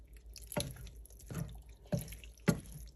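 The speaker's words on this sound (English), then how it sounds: "So I'm adding my water in portions." Water drips and splashes into a cooking pot of lasagna sauce in four spaced, separate pours, faint and close with a low hum beneath.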